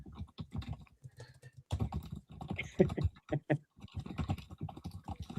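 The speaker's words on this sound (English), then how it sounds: "Damn, Lee, you can type like a pro" Rapid clicking of computer keys, close up, in uneven bursts with short pauses between runs of keystrokes.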